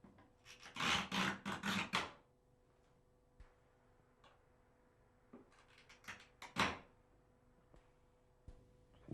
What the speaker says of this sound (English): score the tile glaze.